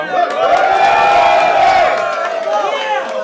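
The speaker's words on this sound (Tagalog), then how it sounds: "Palakpak muna tayo." A crowd at a rap battle main event cheers and whoops loudly in a sustained burst, with shouting voices rising and falling over the clamour.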